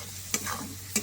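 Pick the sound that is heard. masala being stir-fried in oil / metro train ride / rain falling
masala being stir-fried in oil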